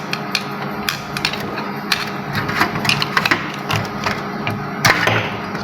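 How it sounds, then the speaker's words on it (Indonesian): A flathead screwdriver scrapes and clicks against metal while an o-ring is pried off a hydraulic jack plunger, giving a dense run of close scratching, tapping clatter over a steady workshop background. "Kemudian kita akan melepas o-ring dan penabur menggunakan obeng min"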